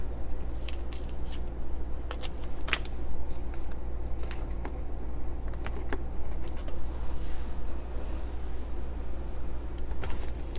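Dark washi tape being cut for a travel journal: several crisp snips and light tearing clicks at uneven intervals over a steady low hum, close and quiet, with no talking.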